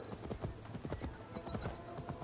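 A horse gallops with quick, steady clip-clop hoofbeats in Assassin's Creed Valhalla. The hooves drum close and loud and fill the short stretch without a break.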